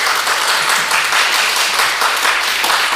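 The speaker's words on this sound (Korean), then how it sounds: "우리 김기문 씨가 이제 박수 한번 쳐줘요" Dense applause from a church congregation fills the whole stretch, steady and loud with many hands clapping at once.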